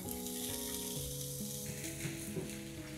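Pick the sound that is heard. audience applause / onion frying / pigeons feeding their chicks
onion frying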